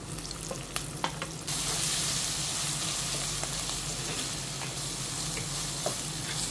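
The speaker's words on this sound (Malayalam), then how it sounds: "നമുക്ക് ചതച്ച് വെച്ചിരിക്കുന്ന വെളുത്തുള്ളിയും ഇഞ്ചിയും ഇതെല്ലാം അവിടെ അങ്ങോട്ട് ഇട്ട് കൊടുക്കാം" Crushed garlic, ginger, green chillies and curry leaves hit hot oil for a Kerala-style beef curry. A soft sizzle with a few pops jumps into a loud, sustained frying hiss as the ingredients go in.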